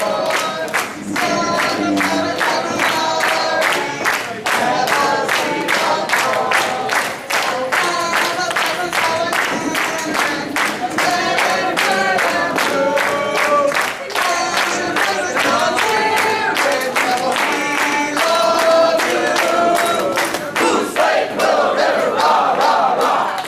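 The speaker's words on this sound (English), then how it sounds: "Come on, let's cheer the rebels on to victory." Loud, dense crowd cheering and yelling at a high school football playoff game, sustained throughout with bursts of clapping and shouted chants blending into a constant roar.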